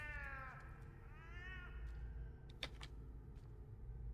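A cat in the video game EverQuest II gives two drawn-out meows, followed by a few soft clicks and knocks, all quiet and faint.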